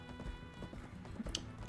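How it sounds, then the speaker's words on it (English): Horse hooves clip-clop steadily in the video game Black Desert Online, a quiet even gallop rhythm with faint game ambience and no talk. "So I'm heading up here on Shadowfax, my horse,"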